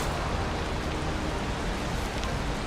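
Steady heavy rain pours down in Valheim, a dense, even hiss filling the whole stretch with no breaks and no voices.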